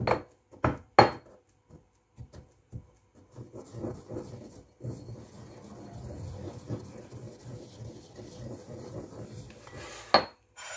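Dehydrated chicken bouillon cubes are crushed, with sharp knocks and clatter against a hard surface at first, then a longer run of grinding and crunching, and a final sharp clack near the end.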